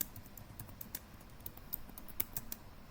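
Typing on a computer keyboard, quiet irregular clicks of keys scattered over about three seconds with a few sharper taps, no talking.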